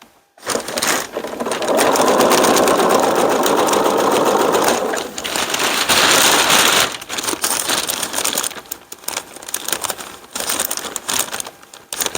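A sewing machine runs in long continuous bursts while back stitching a seam, loud and close, with a brief pause midway and then a second stretch before clicks and handling noises near the end.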